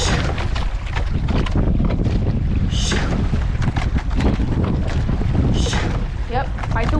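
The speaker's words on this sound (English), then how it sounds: "fight the wind here, fight the wind" Strong wind buffets the microphone on the water while a rowing crew works, a constant roaring rush with occasional voices breaking through.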